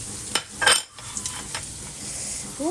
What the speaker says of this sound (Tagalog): habang ating ginigisa